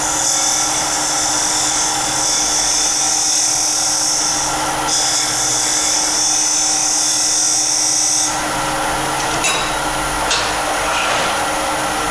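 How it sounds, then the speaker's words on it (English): Wood lathe spinning a natural-edge vase while a Hope detail tool cleans up the edge, giving a loud, steady whine with a high-pitched, drill-like cutting tone that shifts in pitch partway through. "You could also use the Hope detail tool just to get down and get that nice and tidy."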